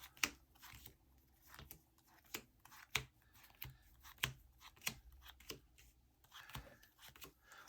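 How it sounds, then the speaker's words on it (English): A deck of Yu-Gi-Oh trading cards gets power shuffled by hand, making quiet, quick papery riffles and sharp card snaps in an irregular run, close by with no talking. "Give it a quick power shuffle."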